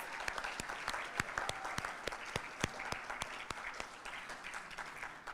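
A small audience claps for a singer at a hotel event, with sparse, distinct individual claps ringing out close and crisp in an uneven rhythm, fairly faint overall.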